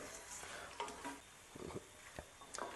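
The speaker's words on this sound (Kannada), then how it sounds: "ಇದು ಕೊಬ್ಬರಿ ಸ್ವಲ್ಪ ಇದು ಅಷ್ಟೇ ಸ್ವಲ್ಪ ಗೋಲ್ಡನ್ ಕಲರ್ ಬರೋ ತನಕ ಫ್ರೈ ಮಾಡ್ಕೊಬೇಕಾಗತ್ತೆ" Dry coconut frying in a pan for chatpat mandakki, giving a faint, quiet sizzle with a handful of light scraping stirs spread through it, no voices.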